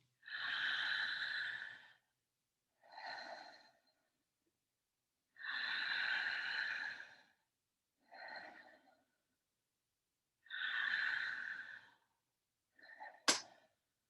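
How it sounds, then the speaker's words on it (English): Deep, forceful breaths in a breathwork session: three long inhales alternate with shorter exhales in a steady slow rhythm, loud and close with no talking, ending in a sharp burst. "breathing through the vibrations and sensations. Just keep that breath going."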